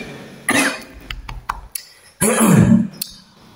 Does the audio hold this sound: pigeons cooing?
no